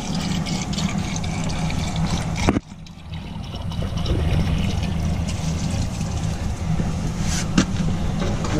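Water pours and trickles into the radiator of an ACE crane, a steady splashing flow with a brief break, then continuing pouring and dribbling close by.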